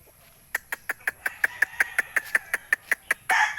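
A rapid series of about sixteen sharp, evenly spaced clucks, close and distinct, ending in a brief burst of noise.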